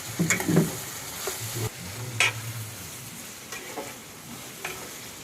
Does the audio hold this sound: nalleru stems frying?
yes